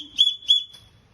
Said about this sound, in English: 3 blasts of the whistle is the distress call.